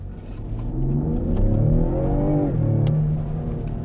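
The engine of a 2020 Ford Explorer ST revs up hard under acceleration, climbing in pitch, then briefly dips at an upshift before pulling again, loud and close from inside the cabin, with no talking.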